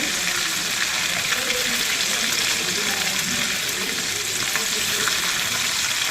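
Fish fries in hot bubbling oil for a Tamil fish curry, a loud, dense, unbroken sizzle and crackle at close range, steady throughout with no pauses.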